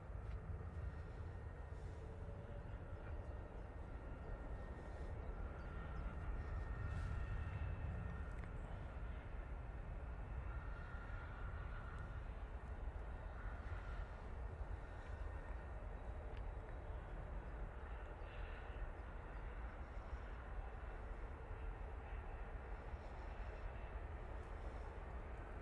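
A Virgin Atlantic airliner touches down at Manchester Airport, heard as a steady, distant low engine roar and rumble that holds level throughout without clear peaks.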